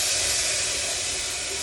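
Very hot water poured into a bubbling gumbo roux sends up a loud, steady steam hiss, close and unbroken for under two seconds, with no talking.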